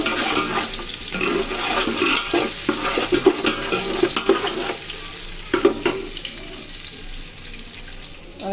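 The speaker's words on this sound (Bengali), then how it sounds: "চালটা ধুয়ে নিচ্ছি সুন্দর করে" Rice is swished and rubbed by hand in a pot of water before cooking pulao, a steady wet sloshing with soft splashes and small knocks, close and continuous with no talk.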